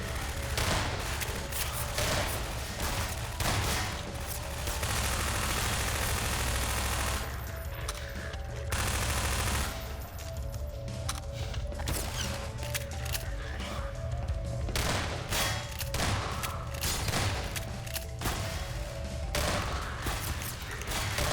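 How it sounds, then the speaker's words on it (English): Continuous heavy video game gunfire from shotgun guards on a custom map, loud overlapping blasts and crackling shots with brief lulls, sustained throughout. "Everyone's favorite shotgun guards."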